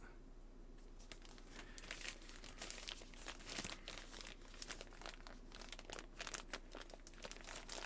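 A sealed plastic bag from a new DJI Osmo Pocket 4 camera package crinkles and rustles steadily for several seconds, close to the microphone and fairly quiet, with no talking.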